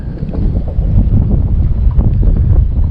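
Steady wind roars and buffets the microphone from out on the water during a bream fishing trip with worms over deep brush, a constant dense low rumble with no speech.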